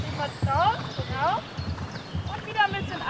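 A horse canters in a riding arena at the Hamburg Derby, with soft rhythmic hoofbeats on the footing while a trainer talks over the gait.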